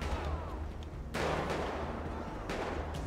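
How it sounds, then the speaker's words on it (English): Gunfire in GTA V with the LSPDFR police mod during a city patrol shootout: a sharp, loud burst of shots, then another a moment later, over a dense, noisy background. "Who's shooting at me?"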